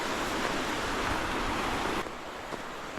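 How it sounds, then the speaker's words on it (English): A river in winter at Kejimkujik, Nova Scotia, rushing steadily with a broad, loud wash of flowing water that drops somewhat quieter for the final second, with no talking. "look at this stunning, beautiful river."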